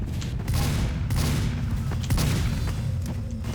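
Sustained gunfire and booming blasts from Team Fortress 2 combat, with dense overlapping shots and explosions at a loud, steady level.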